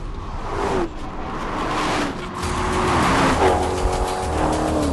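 Maserati GranTurismo S with its 4.7-litre V8 pulling hard, engine note rising and falling through revs with a touch of tyre squeal, loud and close with no talk.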